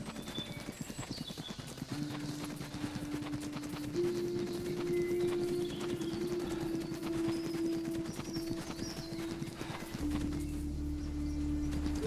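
A horse in a video game gallops with fast, even hoofbeats throughout, backed by a steady low drone that shifts pitch a few times.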